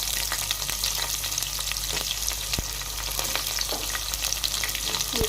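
Onion and bay leaf fry for Telangana-style chicken pulao in a continuous dense sizzle, with frequent crisp ticks and clicks of stirring throughout, close and fairly loud with no speech.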